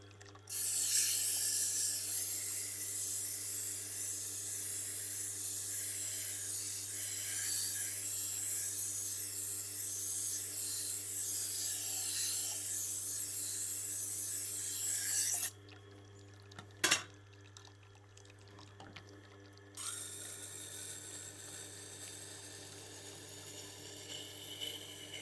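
A knife is ground on a Tormek sharpener, the wheel giving a steady hissing grind for about fifteen seconds over a constant low motor hum, then stopping with a sharp knock, leaving the hum and a softer scraping near the end.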